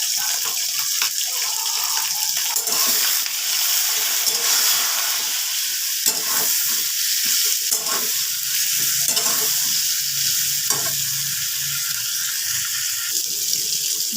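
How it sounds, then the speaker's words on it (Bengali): Eggplant slices seasoned with salt and turmeric fry in oil for hing begun, producing a loud, close, continuous hissing sizzle broken by frequent crackles and spits, with no one speaking. "বেগুনগুলো সব ভাজা হয়ে গেছে।"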